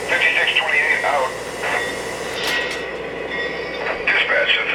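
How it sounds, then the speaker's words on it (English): Model boxcar train running along a holiday layout, a rolling rail rumble with squealing wheel tones and clacking, mixed with radio-style voice chatter between dispatch and crew. "Train is underway."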